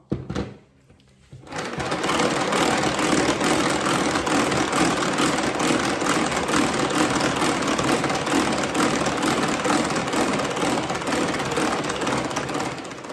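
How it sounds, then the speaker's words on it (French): A Speedy Chef 2 food processor runs steadily at speed 1, whipping chilled evaporated milk into foam, its loud continuous motor whir starting after a brief pause and holding constant throughout. "Je vais l'émulsionner avec le couvercle du Speedy Chef 2 en vitesse 1."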